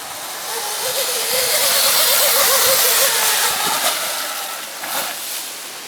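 A Sur-Ron electric dirt bike pulls away uphill with almost no run-up, its motor giving a loud rising whine over a heavy rush of wind and tyre noise that fades slightly toward the end.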